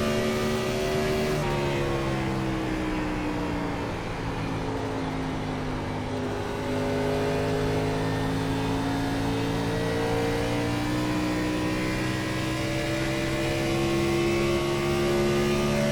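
A 2003 Gen 4 Cup stock car engine drones steadily in iRacing at Darlington, its pitch rising and falling smoothly through the corners. The sound is loud and continuous, and no one speaks.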